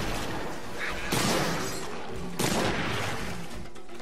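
Hunter's Rifle shots in Monster Hunter 3 Ultimate ring out as two loud, broad blasts about a second apart, each with a long noisy tail, amid steady game noise.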